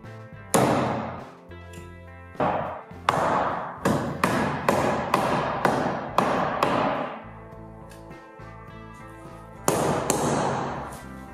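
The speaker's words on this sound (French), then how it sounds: "Là, je viens bien taper." Hammer blows tap a trim piece into place on a flat-roof Tendille garden shed being assembled, about a dozen sharp, loud knocks in irregular bursts with brief pauses between.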